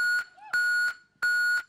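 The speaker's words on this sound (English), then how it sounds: "Leave a message after the beep." Electronic beeps from an answering machine within a song track: three steady, bright, identical tones in an even rhythm, each about a third of a second long, clear and prominent.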